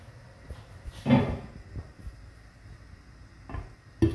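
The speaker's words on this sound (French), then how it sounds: "Je vais le couvrir avec le couvercle." A lid set down on a tagine pot in a home kitchen, a single clattering knock near the start, then a couple of softer taps, all close and with no talk.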